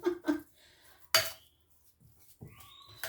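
A spoon mashing potatoes in a bowl, making a few scattered clinks and scrapes with one sharp metallic knock and quiet gaps between them.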